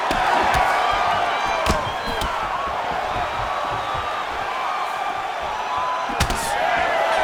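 A capacity arena crowd at a UFC 316 middleweight bout roars and cheers in a standing ovation at the end of a round. The sound is a dense, continuous wall of noise with a few sharper bangs.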